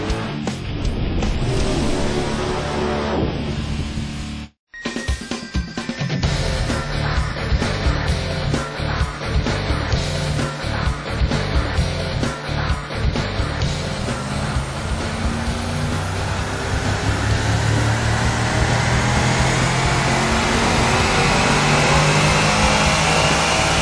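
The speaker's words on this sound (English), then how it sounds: "we just ran the 2010 Camaro on the roll stock and it made 359 real horsepower" A 2010 Chevrolet Camaro's engine roars under load on a chassis dyno, holding a loud steady drone that climbs in pitch through a long pull, with one momentary cut early on.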